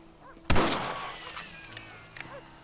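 A single sharp rifle shot cracks loudly in the Red Dead Redemption video game, with a long reverberant tail decaying over a second or two, followed by faint scattered clicks and a quieter snap near the end.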